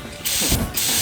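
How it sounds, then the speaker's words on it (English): Spray can hissing out two short bursts in a garage where a Nissan G35 drift car is being worked on, close and loud with a brief gap between blasts, no talking. "I just sprayed it, goes straight at Jacob"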